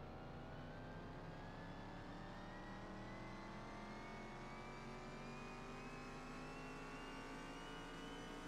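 A rising supercharger whine from a Bolt Cape car in Car Mechanic Simulator 2021, climbing steadily in pitch over an engine revving up, continuous and fairly faint with no talking.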